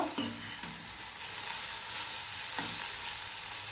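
Egg bhurji frying in a pan while being stirred, a steady close sizzle with scraping stir strokes running through it and no voices.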